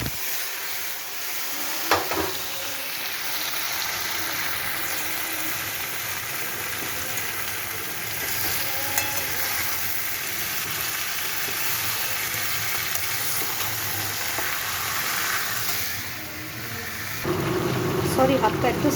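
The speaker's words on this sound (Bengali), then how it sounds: "ভাজা প্রায় হয়ে গেছে, এবার চিকেনগুলোকে দিয়ে দেবো।" Chicken pieces for achari chicken fry in a pan of hot oil, a loud, steady sizzle with occasional stirring scrapes that carries through the whole stretch and rises brighter near the end.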